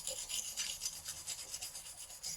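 A wire brush scrubs the brake hub of a 1998 Acura Integra GS-R in quick, close, rhythmic rasping strokes, about five per second, with no talking.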